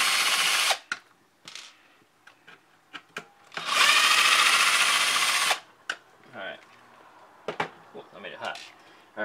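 A cordless drill drives screws into an Axial Bomber 2.0 RC car: a short whirring burst at the start, then a longer, louder run midway, with small handling clicks and knocks in between.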